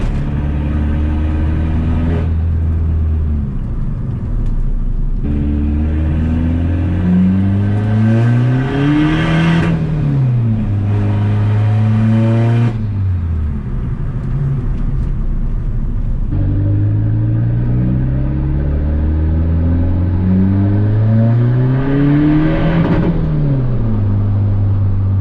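Volkswagen Polo engine while driving, a loud close in-cabin drone that rises in pitch through the gears and drops at each shift, repeating across several accelerations with steady road rumble underneath.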